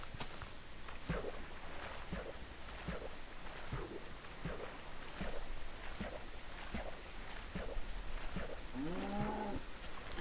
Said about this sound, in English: Here are a bunch of cows.